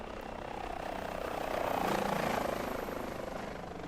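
A helicopter in a flight simulator game sweeps past with a rotor drone and whine, swelling to a peak midway and then fading slightly, with no talking.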